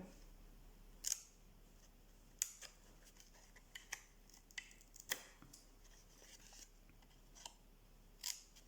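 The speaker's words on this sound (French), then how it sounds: "Alors là, je vais aussi couper ici les angles." Scissors snip the corners of a paper advent calendar box: a handful of sharp, isolated cuts spaced a second or two apart, quiet and close in an otherwise hushed room.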